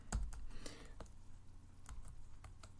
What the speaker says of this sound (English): the idea is to type this in exactly as you see it in the directions